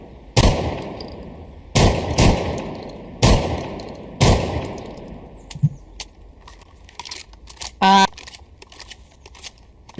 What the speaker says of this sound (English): Can I say Thermite's shotgun? It is the M1014